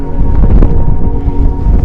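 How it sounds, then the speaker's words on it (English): Heavy, buffeting wind on a hike rumbles against the microphone in continuous low gusts, loud and close, with no voices. "It's very windy"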